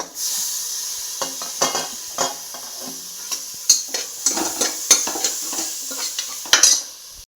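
Beans, carrots and peas fry with a close, steady sizzle as a utensil scrapes and stirs them around the pan in uneven strokes, with no voices.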